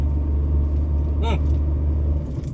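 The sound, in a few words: vehicle struggling to climb a steep mountain road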